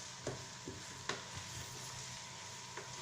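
Carrot being stirred into fried rice in a hot pan, with a steady soft sizzle and a few scattered scrapes and clinks of the utensil, faint and close, no talking.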